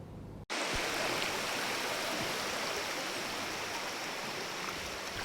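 Fast-flowing river at a broken bridge in Mamasa, a steady loud rush of water that starts abruptly after a brief gap and continues unbroken, with no voices.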